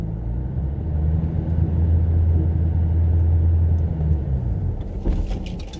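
A Shelby GT500 pulling away gently in first gear on light throttle, a loud, steady, deep engine rumble held for several seconds before easing off near the end.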